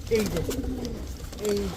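Pigeons for sale coo softly in short throaty bursts at the start and again near the end, close and moderately loud.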